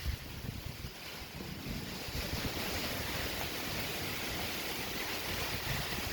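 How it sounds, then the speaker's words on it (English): Pouring rain and strong wind during a Toronto thunderstorm, a loud steady broadband roar with wind buffeting the microphone, no voices. "As you can tell, it's pouring and it's super, super windy."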